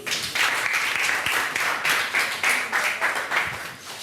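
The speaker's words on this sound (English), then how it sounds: "Can you clap for him?" An audience claps steadily for Scott at a small reading of personal poems, a dense, continuous round of applause lasting a few seconds with slight swells and no talk over it.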